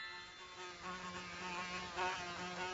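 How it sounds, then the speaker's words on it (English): Bees buzzing around a beehive make a steady, faint, droning hum with slight rises and falls over a few seconds. "That's bees, that is. They live here. I've bought myself a hive."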